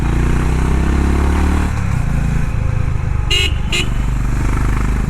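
Two short horn beeps from a Honda H'ness 350 motorcycle sound in quick succession over a running engine, after the engine note drops from a louder rumble.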